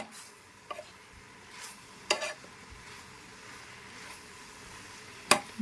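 Soft, steady sizzling of a spice tempering for broad beans in a pan, with occasional stirring scrapes and a few sharp clinks, no talking.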